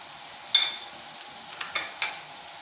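Lightly browned onions fry in a pan for spicy aloo ki katliyan, with a soft background sizzle broken by four distinct scraping stirs of a spoon.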